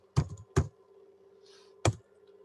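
Three sharp keystroke clacks on a computer keyboard while typing "oven mitts", two quick taps close together then a pause before a third, close and clear over a quiet hum.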